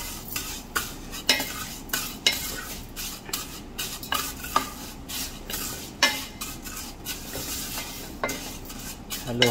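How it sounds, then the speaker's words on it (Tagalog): Vermicelli browning in a pan is stirred with repeated scraping strokes of a utensil against the metal, a rhythmic series of clicks and scrapes over a low sizzle, close up with no talking. "Haluin lang hanggang mag-brown tong vermicelli natin"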